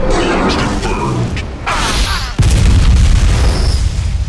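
Rocket launcher primary fire in the Unreal Tournament pre-alpha game, loud booming blasts and a rumbling explosion that sustains to the end, no talking.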